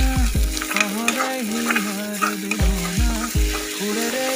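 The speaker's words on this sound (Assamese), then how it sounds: "অলপ ভালকৈ লৰাই লওঁ।" An egg and onion fry being stirred in a pan on a gas stove: a continuous close sizzle broken by several low scraping knocks from the spatula, with a tonal background running underneath.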